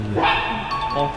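A dog barks and yelps from a video playing on a screen at a pet resort with a café, a short burst of yapping heard under people talking nearby.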